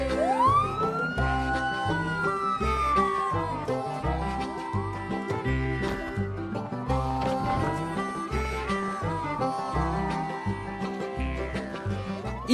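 A wailing siren in Project Zomboid rises and falls over a dense, loud electronic music track with a steady thumping beat, continuing throughout.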